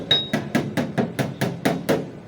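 Metal is struck with a hammer in a steady rhythm of about ten sharp, ringing blows, close and evenly spaced, with no voices over them.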